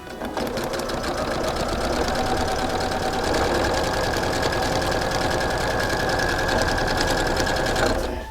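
Sewing machine stitching pieced 5-inch quilt block squares, a loud, close, continuous rapid mechanical chatter running evenly for the whole stretch with no talk.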